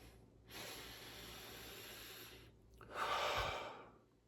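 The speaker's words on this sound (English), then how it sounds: "take a deep breath in" A single deep inhalation through the nose or mouth, a soft airy hiss sustained for about two seconds, followed by a louder, stronger breath, close and alone without talk.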